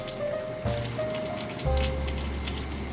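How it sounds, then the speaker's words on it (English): Vinegar poured into a pot of chicken adobo, a steady liquid splashing and trickling that runs for a few seconds under kitchen background noise. "I'm gonna add in our vinegar now."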